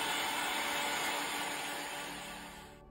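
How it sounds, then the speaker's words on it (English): A heat gun blows steadily while drying spray paint on glass, a loud, even whooshing hum with a faint high whine that slowly tapers off near the end. "But like using a hairdryer or a heat gun like I am, we're just speeding up the process."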